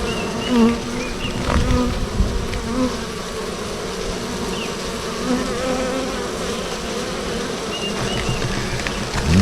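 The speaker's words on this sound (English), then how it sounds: "Lots of bees." Many bees buzz continuously nearby, a dense humming swarm with individual insects whining past now and then.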